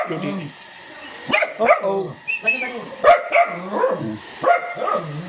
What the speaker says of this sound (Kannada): ಅವ್ರ ಮನೆ ನಾಯಿ